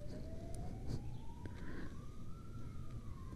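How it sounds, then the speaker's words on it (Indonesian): A steady siren tone rises slowly in pitch over constant low rumbling traffic noise, sounding somewhat distant. "kok ada sirine"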